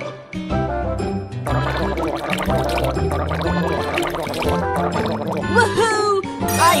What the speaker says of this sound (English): Rinse with water.